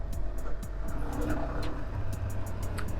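A 2022 Yamaha XSR125 125cc motorcycle engine hums steadily while riding as it shifts up into third gear, with wind rush and a few faint clicks, heard up close.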